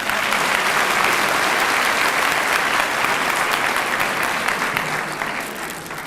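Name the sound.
applause from audience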